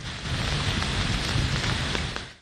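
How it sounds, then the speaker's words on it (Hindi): Heavy monsoon downpour in Lahore pours steadily, a dense, loud hiss of rain hitting surfaces with scattered drop impacts, continuous throughout before easing slightly at the end. "आसमान पर छाए गहरे बादल और हुई मूसलाधार बारिश"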